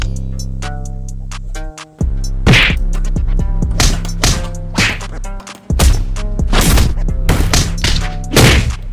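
Sharp punches thud into a DIY in-ground punching bag in bursts, about a dozen hard whacks spaced unevenly, loud and close, some landing in quick combos, with no talk.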